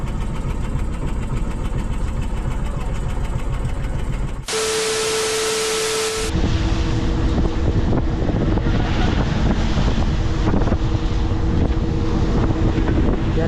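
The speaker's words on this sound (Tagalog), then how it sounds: "medyo may alon-alon pa ito pa yung epekto ng bagyo" Wind and engine rumble aboard a fishing boat at sea after Typhoon Aghon, a loud continuous roar with heavy wind buffeting and a steady low drone, briefly interrupted by a sharp burst of noise.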